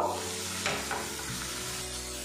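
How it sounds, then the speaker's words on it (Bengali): A spice mix with chili and Kashmiri red chili powder fries in a pan as it is stirred, producing a continuous sizzle with a few soft scraping strokes of the spoon. "মশলাটা কিছুক্ষণ নাড়াচাড়া করে নেব"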